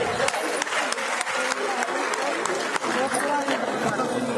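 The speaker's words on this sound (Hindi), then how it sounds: "जोरदार तालियां हमारी बहन के लिए" Hearty applause from the audience at a women's conference in Panchkula greets a speaker as she is invited up, steady, loud clapping with crowd chatter mixed in.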